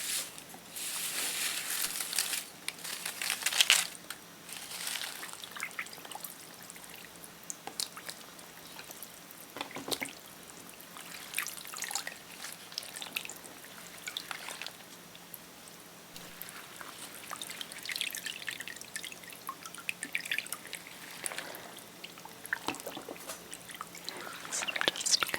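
Soaked paper pulp is swished and stirred by hand in water for papermaking, giving soft, irregular sloshing and wet squelching close up, quiet overall, with a few brighter splashes.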